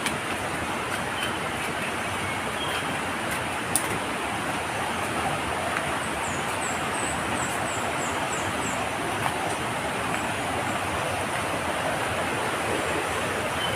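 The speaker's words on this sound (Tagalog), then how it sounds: "Dito, malakas ng agos dun sa baba." A strong current rushes at Taal Falls as a steady, loud wash of water noise, broad and unbroken throughout, with faint bird calls above it.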